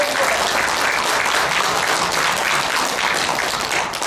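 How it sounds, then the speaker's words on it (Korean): Steady, dense applause from a large indoor audience at a Korean business gathering, filling the whole stretch at even loudness with no speech over it. "박수 한번 받아주십시오."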